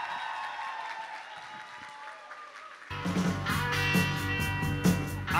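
At a high school graduation ball, quiet hall ambience gives way midway to a sudden burst of audience applause mixed with loud music as a student is introduced.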